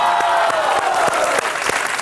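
A crowd applauding at a televised gaming show, loud dense clapping with scattered sharper claps, continuous throughout with faint voices underneath.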